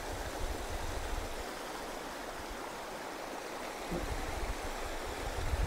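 Forest stream flowing beneath a bridge, a steady broadband rush of water heard close and continuous with no talking, briefly a little louder near the end.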